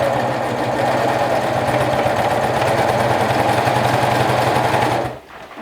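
A sewing machine runs steadily for about five seconds, stitching a waistband onto a garment at the seam, with a dense, even mechanical chatter that is loud and close before it stops abruptly near the end.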